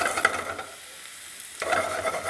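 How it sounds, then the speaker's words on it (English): Mushrooms sauté in hot oil with a steady close sizzle, which dips briefly in the middle and then returns to full crackle. No one speaks. "So we're gonna put the mushrooms in. Be careful because the oil is hot."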